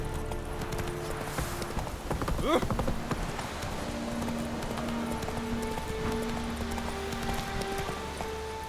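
Roach, a horse in The Witcher 3, with rhythmic hoof clip-clops carried over a continuous outdoor ambience and game music; a burst of louder motion near the start, and someone talks over part of it.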